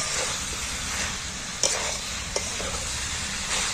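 Jackfruit curry sautéing in a pan gives a steady broadband sizzle, with a few sharp scrapes and clinks of stirring near the middle and end, no talking.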